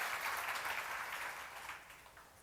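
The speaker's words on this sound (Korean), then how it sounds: "박수로 나와주세요" Steady applause from a church seminar audience, a continuous wash of clapping that holds fairly even before easing slightly toward the end.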